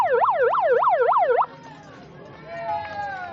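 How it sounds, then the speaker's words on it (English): A loud siren sound effect wails in fast rising-and-falling sweeps for about a second and a half, then cuts off abruptly, leaving quieter background chatter and shouting. "Let's do the siren thing, can we?"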